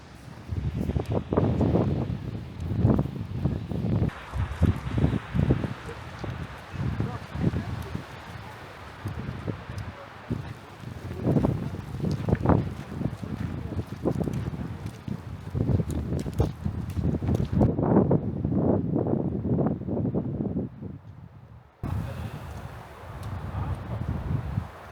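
Strong bora wind gusts in Slovenian Istria, buffeting the microphone in loud, uneven surges that rise and fall over most of the stretch, then briefly cut out near the end before resuming.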